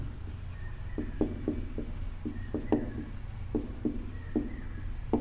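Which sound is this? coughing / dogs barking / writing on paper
writing on paper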